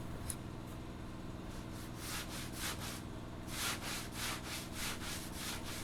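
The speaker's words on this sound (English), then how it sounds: "Using this round sanding block really isn't hard." A round sanding block rubs back and forth over filler on a boat's foredeck, giving steady, rhythmic close scraping strokes that grow a little stronger toward the end, with no voices.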